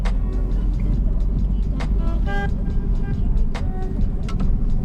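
A 20-year-old manual Saab car pulls away as the clutch is released, its engine giving a steady low drone from inside the cabin, with faint ticks and brief voices.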